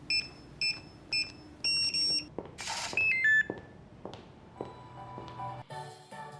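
A series of short electronic door lock keypad beeps while changing the password, single tones and quick runs of rising notes, followed by a longer chiming confirmation melody, close by and alone.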